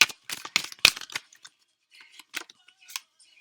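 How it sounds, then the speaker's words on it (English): Tarot cards being pulled from a deck, giving a string of crisp snaps, flicks and soft slides, denser at first and then sparser, close and fairly quiet with no talking. "And I'm going to pull a couple more cards here."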